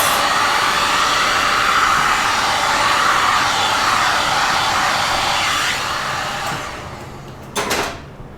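A heat gun blows steadily and loudly during a resin colander pour, a broad continuous airy roar that fades slightly toward the end before a brief louder burst.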